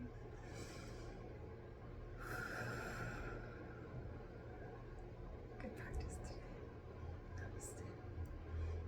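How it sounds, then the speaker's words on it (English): A slow, deep inhalation during a yoga session, breathy and airy, rising over a steady low room hum and fading out. "Take a deep breath in."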